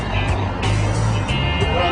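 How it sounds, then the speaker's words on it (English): A tour bus pulls in to park, its engine giving a steady low rumble throughout with a few brief rises in pitch, while people talk over it. "I'm gonna park the bus."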